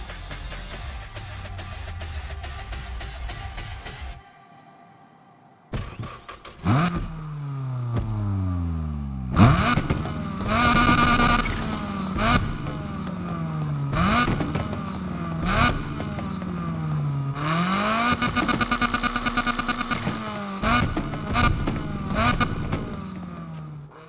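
A Nissan sports car from Need for Speed ProStreet revs hard and climbs through repeated gear shifts, its engine loud and close with rising and falling pitch sweeps.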